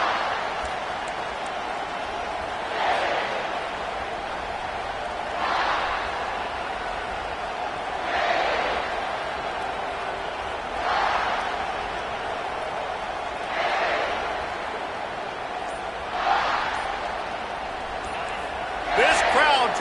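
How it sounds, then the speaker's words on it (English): At a South Carolina versus Clemson football game, a large stadium crowd roars in rhythmic waves, swelling and fading every few seconds above a constant background din. "This crowd trying to show them what it's going to be like all day in this house"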